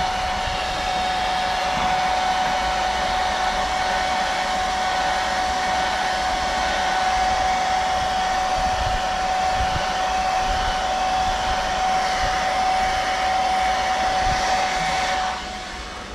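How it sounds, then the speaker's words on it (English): A hair dryer blows steadily at close range drying airbrushed paint on a fishing lure, a constant whooshing drone with a faint high whine, cutting off near the end. "hit with the air dryer. Nothing fancy, it dries pretty quick."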